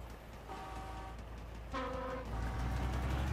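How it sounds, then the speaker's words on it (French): Stock vehicle horn in the Crossout vehicle combat game, sounding two short tonal honks amid a low engine rumble, with a third blast rising toward the end. "T'as vu le klaxon d'origine, il est pas vilain"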